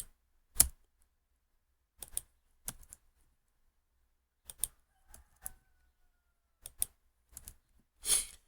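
Sparse, separate clusters of keystrokes on a computer keyboard while HTML code is entered, arriving in short bursts with pauses between them, fairly quiet and with no voice.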